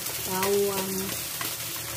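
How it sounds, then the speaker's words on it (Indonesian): Spring onions frying in hot oil for a simple Taiwanese home dish, a soft continuous sizzle close by, with a brief tonal sound near the start. "daun bawang yang sudah digoreng harum ya, harus keluar baunya harum dulu ya"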